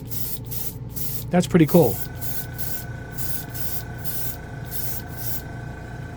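An airbrush driven by a compressor sprays Gaia Prism Blue Black paint over gloss white, giving a steady close hiss that pulses on and off. A person speaks briefly near the start.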